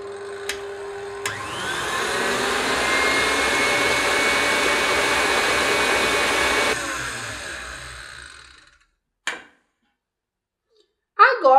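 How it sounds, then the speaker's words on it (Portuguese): Electric hand mixer beating cake batter for a coconut milk cake with vanilla extract, a steady loud whir for several seconds that winds down and stops, followed by a couple of brief clicks and knocks. "Vamos voltar a bater mais um pouco."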